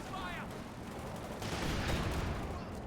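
Gunfire from three Sherman tanks and a pintle-mounted machine gun crackles in a World War II strategy game match, a steady rattle of shots with a louder burst toward the middle, moderately faint amid battle noise.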